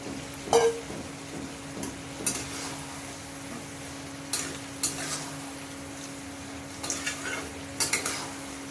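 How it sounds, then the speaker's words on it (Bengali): Spoon scraping and stirring keema, minced meat sautéing with spices in a pan, in scattered clinks and scrapes over a steady low sizzle, with no talking. "আমার কিমাটা কষছি এবার আমি এই যে পটল আলু ভেজে রেখেছিলাম এটাও দিয়ে দেবো"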